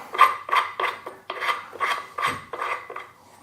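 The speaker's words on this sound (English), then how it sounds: "you want to put the threaded side and spin it on this base" A threaded floor lamp pole spun by hand onto its base gives a series of about eight regular gritty scraping strokes, close and fairly loud, with no talking.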